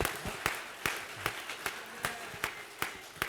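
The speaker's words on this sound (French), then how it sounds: "Acclamez d'abord." A church congregation claps in a steady, fairly even rhythm, about three claps per second, each clap sharp but moderately faint in a reverberant room.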